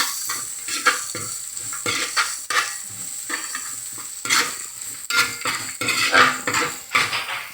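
A spoon scrapes and clatters in a pan as tomato and chicken curry masala with crushed ginger and garlic is stirred, with repeated close metallic strokes over a soft sizzle of frying, and no talking.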